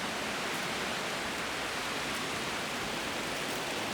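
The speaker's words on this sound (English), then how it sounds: "my first waterfall" Steady broadband rush of a waterfall in a forest near Tamolitch, Oregon, a constant, even roar with no breaks and no voices.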